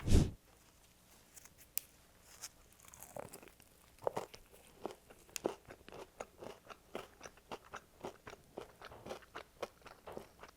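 Close, crisp crunching of Wingstop fried chicken wings with Parmesan being bitten and chewed, with irregular bursts that speed into a steady munching rhythm.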